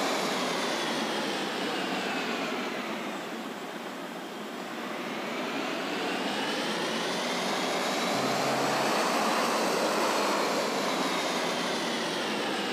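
An airplane engine roars in the video game Gangstar Vegas, a steady broad drone that swells and shifts in pitch as the plane flies, continuous with no voices.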